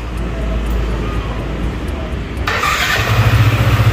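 An NMAN 155 motorcycle left unused for a while is cranked and fires, and a steady rumble breaks into a louder, brighter engine run that pulses near the close.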